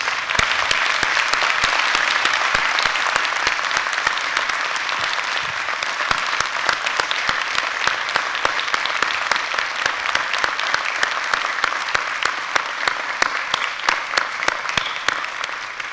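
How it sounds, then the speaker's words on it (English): Audience applause for graduates at a university commencement ceremony, a broad, even wash of clapping from a large crowd that holds steady and sustained throughout, with no voices over it. "Let us all bow in applause to these wonderful graduates"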